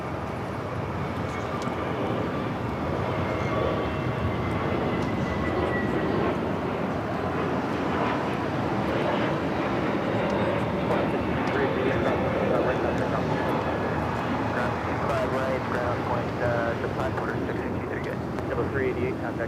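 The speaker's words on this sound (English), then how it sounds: "The A380 is now rolling" An Airbus A380 rolls down the runway at LAX, a broad, steady jet roar with wind noise heard from a distance, while a person talks over it throughout.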